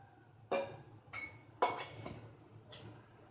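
A metal kadhai wok set down on a gas stove burner, giving several short clanking knocks spaced about a second apart, close and moderately loud, with no talking.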